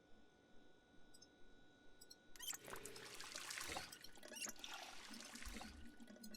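Water runs from a tap into a bottle in Project Zomboid, a soft gurgling trickle rising after a quiet start and continuing steadily for several seconds, faint and close, with no talk.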